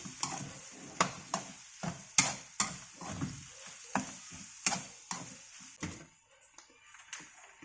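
Tomato sauce stirred in a pan for lasagna roll-ups, the spoon making steady, rhythmic scraping strokes about twice a second, close and fairly quiet, with no talking.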